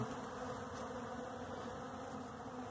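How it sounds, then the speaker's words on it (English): A steady, continuous buzzing of many bees, close and droning without pause. "The bees seem pleased."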